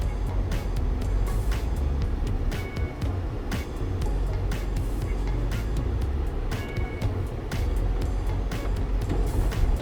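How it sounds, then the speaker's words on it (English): Busy high-season road traffic on Mykonos, Greece, heard from inside a moving vehicle: a steady loud engine and road roar, with cars passing close by in several directions. "Traffic coming at us in all directions."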